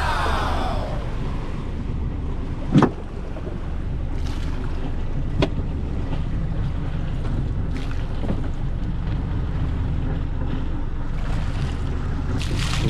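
A fishing boat runs out on the Pacific Ocean, with a steady low engine drone, waves washing against the hull and strong wind buffeting the microphone, plus a few sharp knocks.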